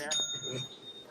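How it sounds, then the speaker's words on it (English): Bright, ringing notification ding signalling a sale at work, a single clear chime that sustains and fades, with a person talking over it. "anytime that there's a ding, it means I made a sale at work"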